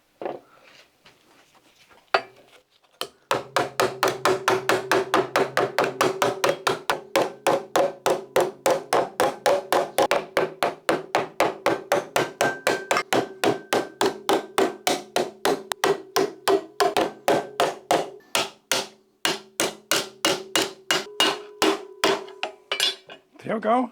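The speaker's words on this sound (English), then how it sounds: "And then just start to hammer the edges and fold them around." Steady hammer blows fold over the edges of a clamped metal panel on a Citroen BX, a long run of sharp ringing metallic strikes at an even, brisk pace, close and loud, after a few scattered taps.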